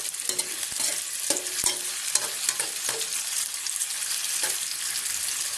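Tofu fries in a pan with only a little oil, making a dense, steady sizzle with scattered pops and a few clinks of a utensil, close and without speech.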